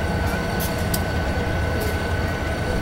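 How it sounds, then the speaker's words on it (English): A short CSX freight train rumbles past close by in a steady, dense roar of wheels and cars with faint metallic squeals flickering above, holding constant for the whole stretch with no voices. "This was a short CSX freight."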